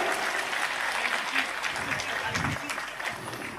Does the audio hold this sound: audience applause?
yes